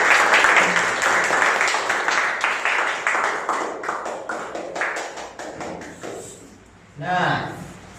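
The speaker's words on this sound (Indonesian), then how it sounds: "tepuk tangan semuanya" Classroom applause during a teaching session on halal food, a burst of clapping from a group that thins into a few individual claps and fades before a voice speaks at the end.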